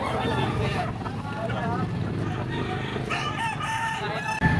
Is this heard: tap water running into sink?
no